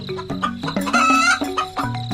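A cartoon hen clucks at its nest, loud, close, rapid clucking calls in quick succession, standing alone without talk.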